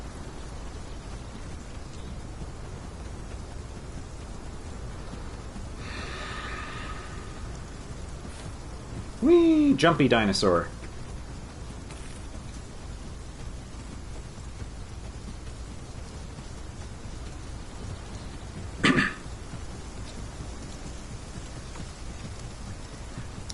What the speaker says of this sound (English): I am inside, experiencing a rainy day on a video game